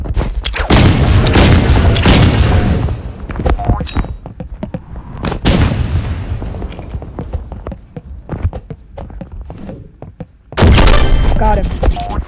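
Sniper rifle shots in a video game ring out as sharp booming cracks, a loud burst at the start and another near the end, with scattered thuds and game noise in between.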